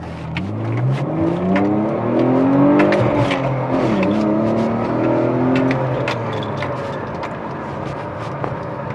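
A car pulls away hard from first gear on a test drive after a limp-mode repair, the engine rising in pitch through a loud, sustained rev before easing off near the end, with no talk over it.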